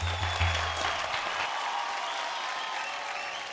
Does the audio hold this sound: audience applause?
yes